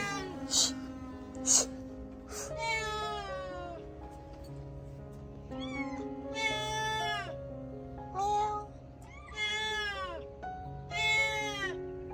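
A cat waiting for milk in Saudi Arabia meows repeatedly, drawn-out cries coming close and loud in irregular bursts, with a faint voice now and then underneath.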